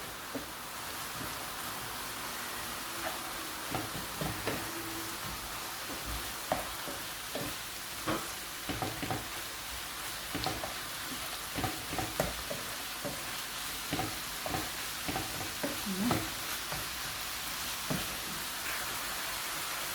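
Spiced minced meat for a kefta pastilla being stirred in a pan, a soft continuous sizzle with repeated scraping and tapping of the spoon at an irregular pace.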